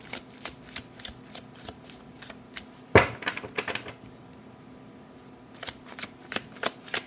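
Tarot cards are shuffled during a reading, quiet papery riffles and taps in a close, still room, with one sharp burst of riffling midway and scattered soft flicks before and after.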